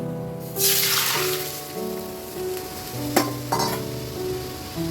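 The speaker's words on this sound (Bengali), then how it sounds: "এদিকে ফোড়নে দিয়েছি তেজপাতা শুকনো লঙ্কা আর জিরে" Bay leaf, dried red chilli and cumin hit hot tempering oil with a burst of sizzling that settles into a steady fry, with a couple of sharp utensil clinks near the end.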